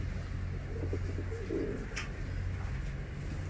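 Fancy pigeons coo softly in their coop, a few low, burbling calls set against a steady background rumble, with a brief higher chirp partway through.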